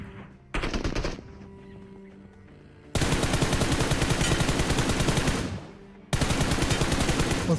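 Loud automatic gunfire from the mobile battle royale game PUBG Mobile: a short burst, a lull, then a long sustained stream of rapid shots that breaks off and resumes, all without talk.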